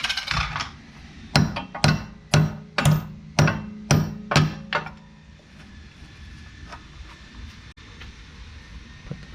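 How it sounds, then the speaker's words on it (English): A hammer strikes a tie rod on a 2002 Pontiac Bonneville, a run of about nine sharp metallic blows in a fairly steady rhythm, close and loud, followed by quieter workshop background. "Get your hammer."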